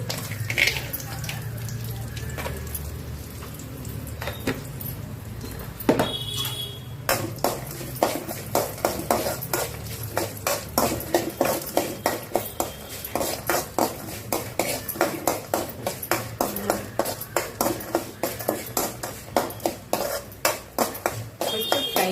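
Raw peanuts fry in a pan and are stirred with a metal spoon, giving rapid, regular scraping clinks over a low sizzle as someone talks in Telugu.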